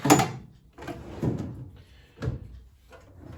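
A drawer in the cabinet under a Myford Super 7 lathe slides open and shut, giving three separate rumbling, knocking bursts of wood and metal sound close by, with short quiet gaps between them and no voices.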